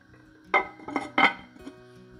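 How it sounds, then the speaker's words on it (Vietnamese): A metal lid clanks onto a cooking pot of fish braising in coconut water, giving three or four close, ringing clinks in quick succession over a low simmering hum in a home kitchen. "khi mà nó sôi nhẹ nhẹ như thế này mình đậy nắp lại"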